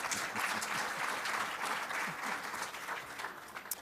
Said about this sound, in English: Please clap for these panelists